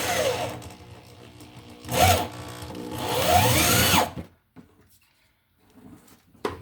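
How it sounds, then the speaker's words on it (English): An electric drill, used while installing a GFI receptacle with MC cable, whirs loudly in two close bursts, the second longer, then cuts off into near silence with faint handling noises. "Had to use the electric drill because my battery drill got stolen today."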